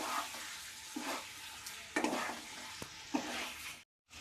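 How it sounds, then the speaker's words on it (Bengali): Fried chicken pieces for chicken 65 being stirred in a sizzling pan over low gas, with a steady hiss broken by four or five scraping spatula strokes, then a brief cut to silence near the end. "এবার দিয়ে নাড়াচাড়া করতে হবে, একদম গ্যাসটা সিমে রেখেই নাড়াচাড়া করবেন।"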